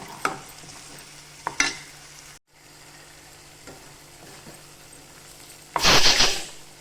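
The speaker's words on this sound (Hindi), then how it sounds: "अब इसे हम लगातार हिलाते हुए इस तरह से पकाएंगे।" Methi matar malai gravy is stirred in a pan over a high flame, giving scattered scraping strokes over a low, steady sizzle and ending in a louder burst of bubbling and scraping.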